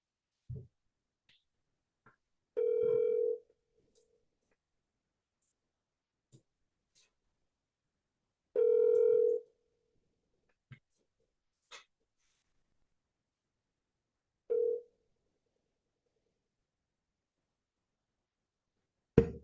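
Outgoing phone call ringback tone while a call is being placed, three to four evenly spaced short ring pulses with silent gaps in between, fairly clear against near silence.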